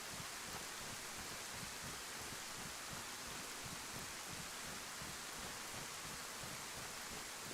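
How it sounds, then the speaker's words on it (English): Steady hiss of heavy rain falling in the survival video game DayZ, a dense, unbroken wash of noise with no voices over it. "Kind of hard to see with all the rain."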